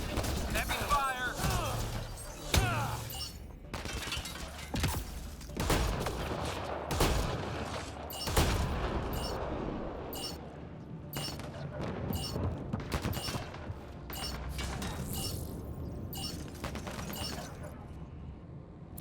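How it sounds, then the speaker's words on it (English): Dense, heavy gunfire rattles nonstop in the sci-fi shooter Mass Effect Andromeda, loud and close bursts stacking over one another with booming impacts, and voices come through under the shooting. "Heavy fire!"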